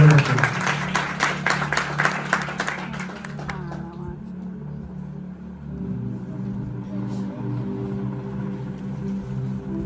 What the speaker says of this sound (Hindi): मैं चाहूंगा जोरदार ताली में ब्रदर शरियार को दावत देते हैं